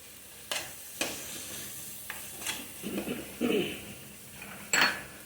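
Mutton pepper fry with curry masala cooking in a pan, with soft sizzling and a series of clinks and scrapes of a spoon stirring against the metal, close and fairly quiet, no voices.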